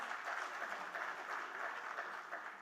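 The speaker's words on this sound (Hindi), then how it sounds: "जोरदार तालियां हो जाए" Audience applause at an Atomy India sales and success-story event: dense, steady clapping from a crowd, moderately distant and continuous throughout without a break.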